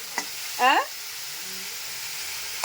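Greens and sesame seeds fry in a pan with a soft, continuous sizzle. Near the start a brief rising voiced sound cuts in, and a few small clicks land at the beginning and end.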